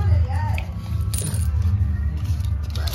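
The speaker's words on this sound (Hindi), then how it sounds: "20-20 के भी सिक्के डाले हैं, 20 के भी सिक्के हैं नए वाले" Coins, including new twenty-rupee coins, clink and rattle as they drop and shift inside a piggy bank, a busy metallic jingle over steady low background rumble.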